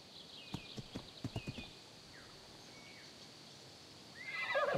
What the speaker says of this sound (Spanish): creo que he escuchado un caballo galopando afuera